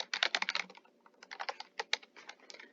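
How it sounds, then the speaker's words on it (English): A password is typed on a laptop keyboard while clocking in with Kronos: quick bursts of close, light key clicks in two runs separated by a short pause, fairly quiet, with no speech. "type in your password."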